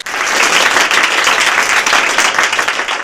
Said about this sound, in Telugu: ఇప్పుడు క్లాప్స్ కొట్టండి అందరు అబ్బాయికి